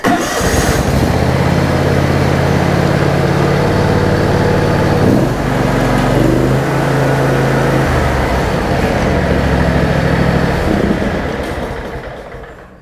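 A John Deere riding lawn mower engine cranks, catches and runs at a steady loud idle close by for about ten seconds, then winds down and stops after being switched off.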